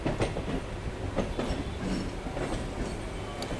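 Local train pulling away from Belur Math station near the Howrah–Bardhaman main line, a steady rumbling roll with faint clicks of wheels over rail joints, close and continuous throughout.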